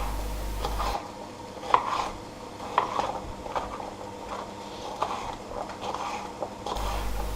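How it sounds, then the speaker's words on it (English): A knife chops green and yellow peppers into chunks on a board, a run of irregular, fairly close knocks and taps with a few sharper hits, heard alone with no talk. "Chopping these up into reasonable chunks, not too big, not too small."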